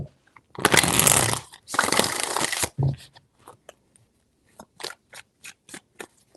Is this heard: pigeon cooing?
no